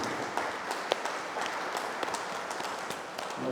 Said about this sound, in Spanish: un aplauso para nosotros